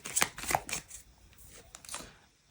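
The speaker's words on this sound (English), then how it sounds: "I'm gonna shuffle that again" Tarot cards are shuffled by hand in several quick, crisp riffling bursts, louder at first and then softer and sparser as the deck settles.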